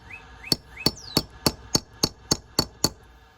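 Nine evenly spaced sharp taps strike a textured stucco wall to start a dimple, each a crisp close knock, with faint bird chirps in the background.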